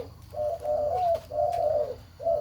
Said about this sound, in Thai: เป็นนกเสียงใหญ่